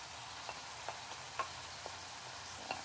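Shrimp in a pan sauce frying quietly: a low, steady sizzle runs throughout, with a few faint clicks and taps on top and no talking.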